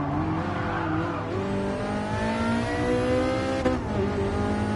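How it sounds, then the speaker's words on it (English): Race car engine in Gran Turismo Sport revving hard and climbing through gears, loud and continuous, with tire squeal mixed in and a brief knock near the end. "Ah, that engine noise is lovely."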